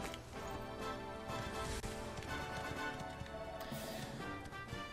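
Horse hooves in Dragon Quest XI clip-clop softly in a steady rhythm beneath game music, faint and continuous for a few seconds.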